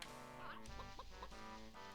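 Clucking chicken in the video game Banjo-Tooie, a few short pitched clucks standing out over steady game music at moderate loudness.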